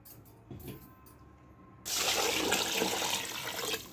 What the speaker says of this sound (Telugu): ఆ నీళ్ళు వేసేస్తాను నేను.